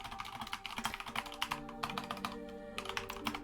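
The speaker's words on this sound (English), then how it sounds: "Enjoy the sound of my typing." Rapid typing on a computer keyboard during a streamed tabletop game session, quiet close clattering keystrokes in uneven bursts with no speech.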